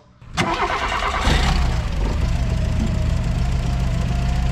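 A Volkswagen Polo G40 engine starting from cold: a sharp starter catch, then the small engine fires up and settles into a loud, steady, slightly rough idle close by.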